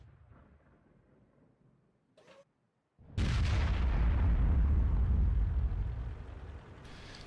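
A T92 artillery gun fires at an IS-7 in World of Tanks: after a quiet lull, a single heavy booming blast erupts and rolls on as a long, loud rumbling decay lasting several seconds.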